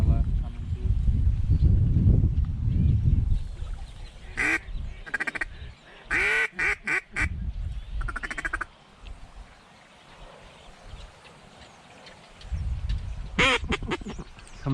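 Ducks quacking during a waterfowl hunt, short bursts of calls scattered through the clip amid outdoor rumble and hunters talking nearby.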